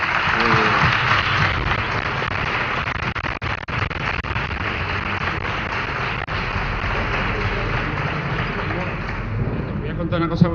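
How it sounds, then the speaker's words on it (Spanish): Sustained applause from an audience at a parish conference in Arcos de la Frontera, broad and steady for about ten seconds, with voices mixed in underneath and a brief lull near the end. "Le damos un aplauso."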